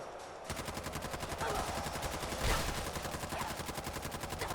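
Sustained automatic gunfire in Fallout 4's Nuka World, from a rifle with iron sights and a bright muzzle flash: a rapid, steady stream of evenly spaced shots, loud and close, continuing without a break.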